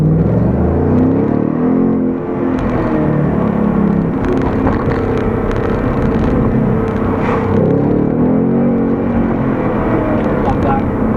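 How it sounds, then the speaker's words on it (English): A 2019 Ford Mustang Bullitt V8 downshifts and revs, a loud steady engine roar with rising and falling pitch under continuous talking. "Love that downshift."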